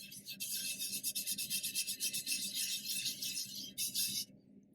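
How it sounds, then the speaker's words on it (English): Dry cone 6 glaze on a pottery piece being buffed over surface cracks, giving a quick, even run of rasping rub strokes that stops abruptly near the end. "by buffing over the surface crack, it will help to fill that crack with a little bit of the dust of the glaze"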